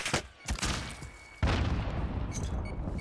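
Gunfire in a shooter video game: a few sharp shots at the start, then a loud dense burst of firing and booms that carries through to the end, with no talk over it.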